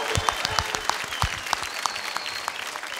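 A studio audience at a televised comedy competition claps enthusiastically, a dense continuous round of applause with crisp individual claps, loud and sustained throughout.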